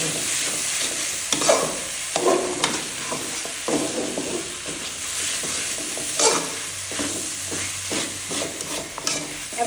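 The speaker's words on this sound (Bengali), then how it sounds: "আস্তে আস্তে জালের মধ্যে এটাকে কষিয়ে নিতে হবে" Mung dal with tomato fries slowly on a low flame, a soft steady sizzle with repeated scraping strokes of a spoon stirring the pan.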